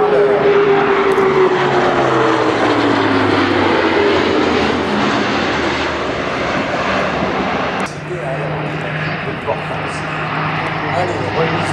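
A military Airbus aircraft makes a fast low pass at an air show, its engine roar loud and continuous, with a falling Doppler tone as it sweeps by and recedes.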